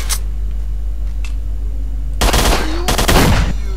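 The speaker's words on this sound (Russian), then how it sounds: "Это прям пулемет." Bursts of rapid machine gun fire ring out in S.T.A.L.K.E.R. gameplay, two loud rattling volleys after a quieter stretch of ambient game noise with a couple of faint ticks.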